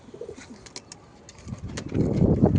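Pigeons in a breeding coop coo softly and repeatedly, low rolling calls close by that swell louder toward the end, with light rustling and faint chirps around them.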